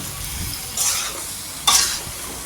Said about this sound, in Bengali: সিমগুলো দিয়ে আলুগুলো দিয়ে কষিয়ে নেব